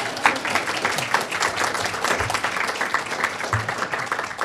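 Clapping from people at a school board meeting, a brief patter of hands that rises and thins over a few seconds, fairly distant and moderate in level.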